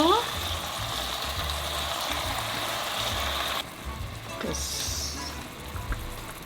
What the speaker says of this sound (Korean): 이렇게 해서 지글지글하게 끓여줄게요